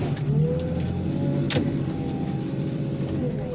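Car crusher motor straining hard while compacting a Ford Mustang, a close, steady mechanical drone with a low hum and a rising whine, punctuated by a short sharp clank midway.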